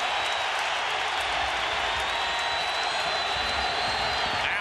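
A basketball arena crowd during the 2001 NBA playoffs, Philadelphia 76ers versus Milwaukee Bucks, keeps up a steady, dense roar of cheering and applause without letting up.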